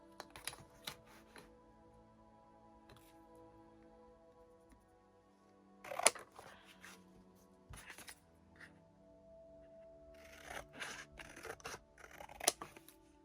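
Scissors snipping material for a gonk's beard, giving several short, quiet crisp cuts in separate bursts with pauses between them.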